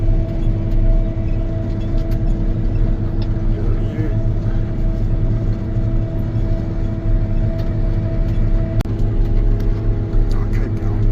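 A Nitro 4275 self-propelled sprayer drives along, producing a steady, continuous engine drone and hum with a faint tonal whine, with no speech.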